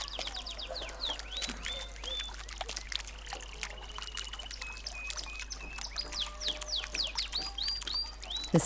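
Birds call outdoors in a steady run of chirps, whistles and rising tweets over a constant low hum and faint trickling background, fairly distant, with no talking.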